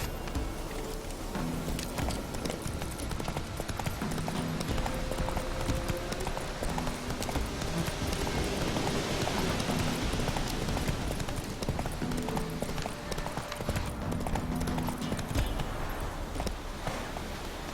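Horse hooves gallop in the video game The Witcher 3, a steady rhythmic clip-clop running continuously at moderate loudness against a dense, busy background throughout.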